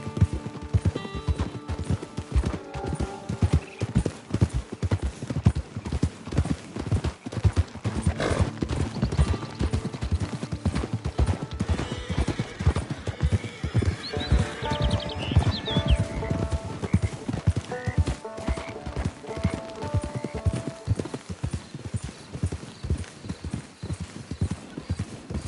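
Horse hooves in Red Dead Redemption 2 Online pound in a fast, continuous galloping rhythm, loud and close, with an occasional whinny and some music underneath.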